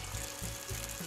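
Anchovies frying crisp in a pan, a dense continuous sizzle with faint low pulses underneath, close and alone without talk.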